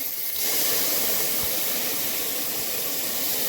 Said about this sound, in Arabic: نزلت الثوم شوحته